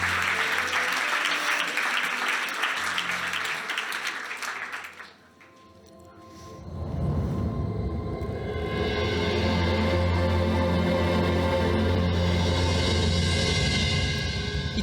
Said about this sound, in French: vous pouvez quand même applaudir encore une fois tous les nominés si vous voulez bien